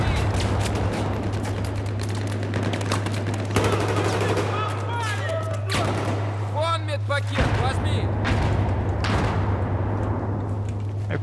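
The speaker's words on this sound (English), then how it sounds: "I provided fire for Caleb to advance" Battlefield 4 gunfire rattles nearly nonstop, with dense machine-gun bursts and scattered shots under a steady low hum while players talk over it.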